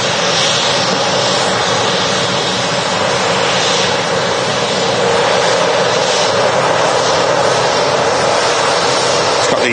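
Loud, continuous roar of a nearby airliner's engines at Manchester Airport, a steady broadband rumble and whine with no letup and no speech.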